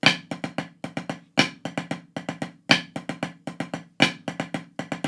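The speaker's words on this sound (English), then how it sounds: "Now basically we're playing a normal flam drag" Snare drum playing a repeating flam-and-drag rudiment, crisp grace-note clusters leading into accented strokes in a steady cycle, close and solo.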